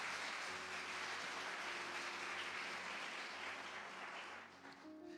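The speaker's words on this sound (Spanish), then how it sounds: "Dale un aplauso al Señor" A church congregation applauds in a continuous, even wash of clapping, quiet and steady, with faint sustained tones underneath and a slight thinning near the end.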